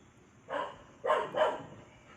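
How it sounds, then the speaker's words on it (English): Neighbor dogs barking in the distance: one bark, a short pause, then two quick barks, faint and far off against a quiet background. "I guess the dogs are just having a bark fest again with the neighbor dogs from afar"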